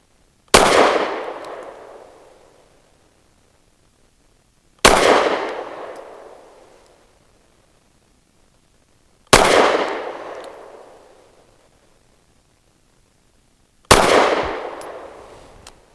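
Four loud, sharp gunshots from a Kel-Tec P15 pistol, evenly spaced about four seconds apart, each a hard crack followed by a long ringing decay outdoors.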